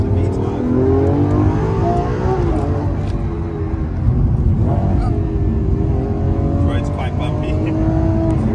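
A Lamborghini Aventador SVJ V12 engine revs loudly and climbs through the gears with a rising, snarling tone, steady and close throughout, with wind and road roar underneath.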